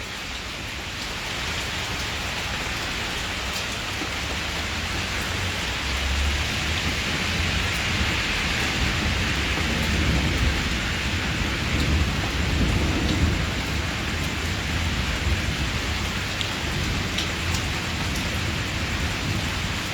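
Heavy rain pours steadily during a strong thunderstorm in Islamabad, a dense continuous hiss with low thunder rumbling underneath and swelling midway, recorded at night with no voices.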